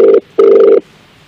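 A telephone rings loudly and close by during a prank call, giving two electronic trills, a short one and then a longer one, before falling silent.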